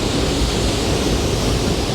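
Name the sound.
water flowing at Minnehaha Falls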